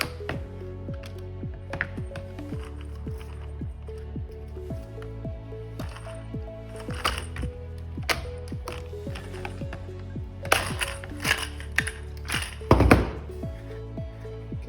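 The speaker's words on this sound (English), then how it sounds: "the second rivet we're going to tighten down" Rivet tool ratcheting down a rivet on a plastic duct, with repeated squeezing clicks and mechanical clunks in a steady rhythm, close by, with a few sharper snaps near the end.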